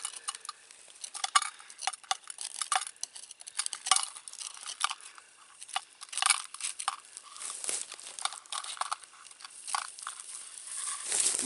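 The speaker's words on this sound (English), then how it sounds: "I'm going to use my knife here and this little Vienna sausage can to" A knife scrapes dry pine pitch off a tree into a small Vienna sausage can outdoors, giving quiet, irregular scratching and crackling strokes that repeat unevenly throughout.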